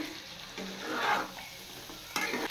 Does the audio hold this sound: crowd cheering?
no